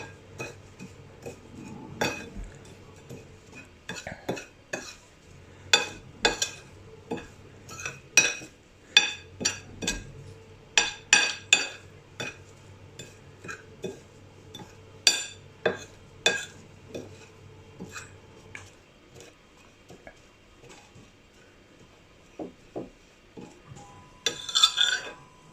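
A spoon stirs fish fry marinade in a bowl, tapping and clinking against the sides in irregular bursts with quiet pauses between.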